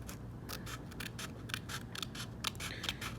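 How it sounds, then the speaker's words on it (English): Fine tip scissors cut out a window in a handmade paper frame, giving a series of close, crisp snips at an irregular rhythm against a quiet background. "you can always just use your fine tip scissors and cut along your lines until we cut out our window"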